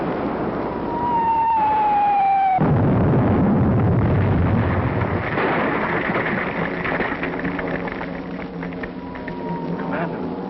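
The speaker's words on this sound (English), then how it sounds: "Shelling the barracks." Shells strike barracks in a film battle scene: descending whistling tones give way to a heavy, roaring blast that rumbles on for several seconds, followed by continuing loud battle din.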